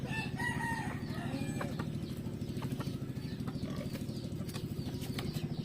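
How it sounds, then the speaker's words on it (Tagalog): A rooster crows nearby over a busy background of clucking hens and fluttering wings, with faint rhythmic noise throughout. "malapit na rin to tumilaok, malapit nang tumilaok to"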